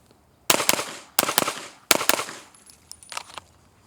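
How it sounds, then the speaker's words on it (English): Three quick pairs of sharp pistol shots fired as doubles at targets, each pair cracking loudly and close, followed by a few fainter metallic clinks and ringing hits. "To me, it feels better just to shoot the doubles."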